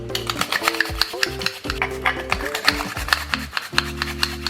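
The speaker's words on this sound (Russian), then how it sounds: "Чеснок натираю на мелкой терке." Garlic cloves rubbed on a fine kitchen grater, a steady rasping scrape in quick repeated strokes, close up and alone.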